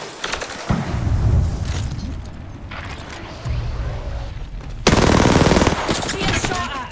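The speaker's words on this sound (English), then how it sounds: "The enemies are shooting at me." Rapid automatic weapon fire in the Apex Legends battle royale game, loud and dense, with sustained bursts and a heavier stretch of shooting near the end, mechanical clatter mixed in and no voices.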